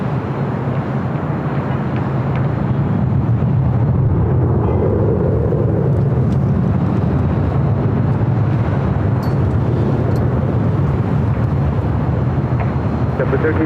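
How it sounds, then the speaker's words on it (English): Boeing 787 Dreamliner arriving at LAX from Newark, a loud continuous roar of jet engines with broadband rumble throughout, heard alongside radio chatter and voices. "This is the Dreamliner coming in from Newark."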